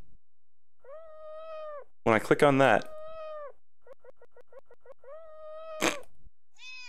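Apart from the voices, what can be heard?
cat meowing in a flash video game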